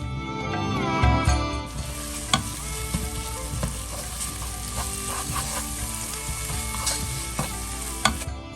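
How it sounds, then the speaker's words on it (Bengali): Fish kofta curry masala with tomato and chopped coriander is stirred in a frying pan, steady sizzling under repeated scraping and clinking of a spoon, no speech. "একটু নাড়াচাড়া করে মিশিয়ে নিয়ে"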